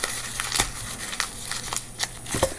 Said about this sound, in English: You're going to get the paper and you're going to crumple it into a ball.